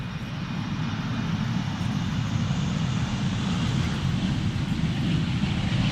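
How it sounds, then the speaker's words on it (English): An Icelandair Boeing 757-200 airliner roars steadily at Amsterdam Schiphol on a crosswind day, a loud, continuous engine drone heard from nearby with no talk over it. "Icelandair 757-200. Beautiful machine and a nice wheelie to boot."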